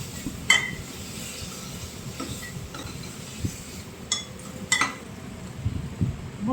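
Spices being mixed in a pan, turmeric, coriander and ground red chilli, with a metal spoon giving a few scattered clinks and scrapes over a soft low background rumble.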